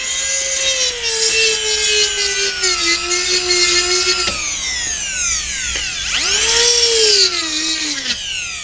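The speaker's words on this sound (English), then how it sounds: "I'm going to go ahead and use this Fisher burr and grind out a little bit" A dental fissure burr grinds into an acrylic Hawley retainer, a loud, close, high-pitched whine that sags in pitch under load, drops briefly, then climbs again for a second sustained pass.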